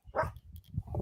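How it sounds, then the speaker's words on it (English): A dog yipping and barking in short excited bursts indoors, moderately close and fairly quiet, with a whimpering note between barks. "And then Mikey, I'm sorry about my dog barking."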